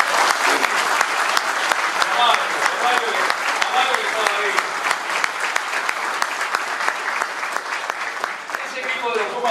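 Loud, dense audience applause at a talk on a coach's role, many hands clapping continuously at close range with a faint murmur of voices underneath.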